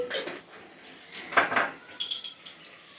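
Mustard, cumin, chana and urad dal and curry leaves are tempered in a pan, with a few close metallic clinks and scrapes of a spoon against cookware over a faint background.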